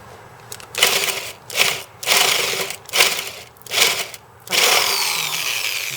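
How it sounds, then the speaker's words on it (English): A power drill bores into wood in about six short, loud bursts of whirring, then one longer sustained run to finish the hole. "start the drill so that it's already in the wood"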